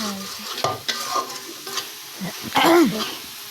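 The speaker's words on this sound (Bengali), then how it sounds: "এই সবগুলো উপকরণ আমি ভালোভাবে কিন্তু নেড়ে চেড়ে মিশিয়ে নিচ্ছি" Spices and chili powder being stirred in a pan for egg korma, soft scraping and shuffling strokes with light clinks and faint sizzle close by, under quiet room noise.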